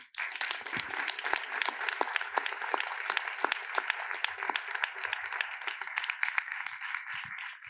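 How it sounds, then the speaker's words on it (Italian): Audience applause opening a corporate human-capital event, many hands clapping steadily and evenly for several seconds, moderately distant in a large room. "vi chiederei un applauso"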